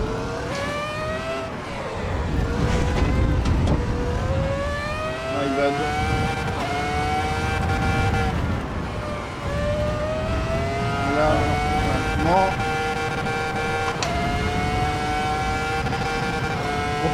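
Ferrari F2004 Formula One car lapping the Nordschleife in Assetto Corsa Evo, a loud, continuous, high-pitched V10 scream that rises and falls through gear changes and braking, with some talk underneath.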